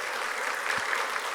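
A church congregation claps together to celebrate a homecoming solo recital, steady dense applause carrying through the whole short stretch with no talk over it.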